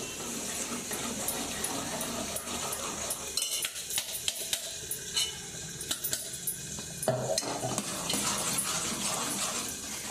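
Semolina mixture being poured and stirred in a pot, with scraping, clinking and wet stirring sounds that carry on steadily at close range, a brief quieter pause in the middle, and no talking.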